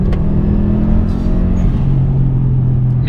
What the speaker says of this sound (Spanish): el turbo está soplando como tenía que soplar de fábrica